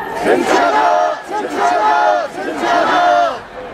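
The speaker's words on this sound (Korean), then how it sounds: "힘찬 함성 감사합니다" A large crowd at a climate justice march roars a rally cry in three loud, swelling bursts of shouting, close and forceful, with brief dips between the waves of voices.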